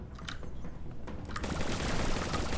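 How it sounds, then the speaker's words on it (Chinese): Burst of spraying spikes after an explosion in the zombie cave game Zombotro, a dense rattling crackle that swells after a quieter opening and keeps going loudly to the end. "那爆炸之后，它那尖刺会喷出来，喷到你"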